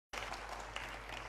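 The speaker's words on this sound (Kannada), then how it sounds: "ಖುಷಿಯಿಂದ ಚಪ್ಪಾಳೆ ತಟ್ಟಿದ್ರಿ" Applause from a crowd at a political rally speech, a dense, steady wash of clapping that starts abruptly and carries on loud throughout.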